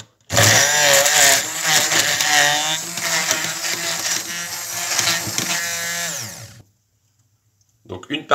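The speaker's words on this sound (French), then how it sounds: "Et je vais tout simplement les mixer à l'aide de mon mixeur" A kitchen blender purées apple pieces for a chausson aux pommes, a loud steady motor whine with a churning, rattling edge for about six seconds before cutting off abruptly into silence, then a brief clatter.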